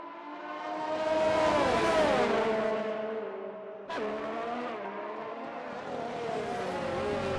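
Formula 1 race cars in the F1 2019 game on the Austria circuit, a high-pitched engine whine that rises through the gears, drops at a sharp shift, then climbs again, loud and close.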